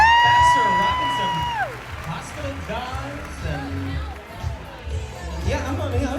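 Crowd at a dog Halloween costume party applauds and cheers contestants on stage, steady clapping and whoops under a host's voice.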